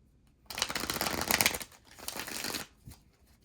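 Two quick bursts of tarot cards being riffled and shuffled close up, a crisp flapping rush with a short pause between.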